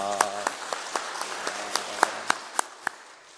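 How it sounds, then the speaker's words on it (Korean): A group applauds in slow, steady unison claps that fade toward the end, sounding in a reverberant church hall during a Sunday service. "우리 박수로 감사하겠습니다"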